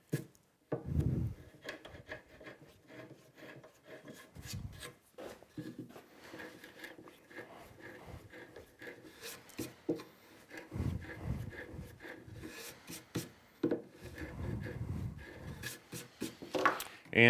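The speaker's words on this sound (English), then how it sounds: "I'm just going to countersink these by hand. A little countersink tool." A small hand countersink tool reams screw holes in soft maple for a shop wall cabinet, giving repeated short scraping, rasping bursts with pauses between, close and moderately quiet.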